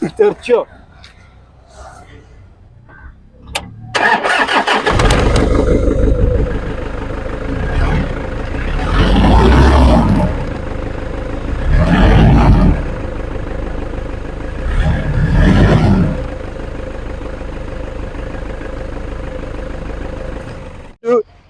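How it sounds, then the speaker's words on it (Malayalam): A Toyota Innova engine cranks and catches after a few knocks, then settles into a steady idle with swelling revs, heard close up while someone talks over it. "ഇനി നമ്മൾ നോർമൽ ഇന്നോവന്റെ സൗണ്ട് കേൾക്കാൻ പോവാണ്."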